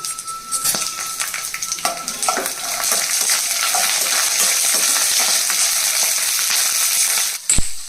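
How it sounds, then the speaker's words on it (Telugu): Peanuts and green chillies frying in a pan for a peanut coriander chutney, a loud, dense sizzle with frequent metallic stirring clinks, ending in a sharp knock, no speech. "పల్లీలు పచ్చిమిరకాయలు కొంచెం వేగిన తర్వాత గుప్పుడు కొత్తిమీర వేసానండి"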